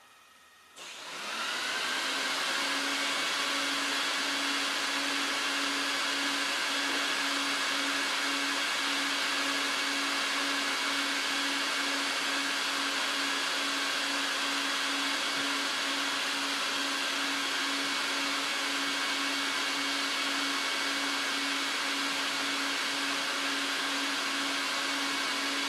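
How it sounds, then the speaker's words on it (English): A vacuum cleaner pulls dirt out of an oriental rug during a natural carpet cleaning. A loud, steady motor whine with a strong hum starts after a brief quiet moment and holds evenly to the end, with no talking. "listen how the vacuum working"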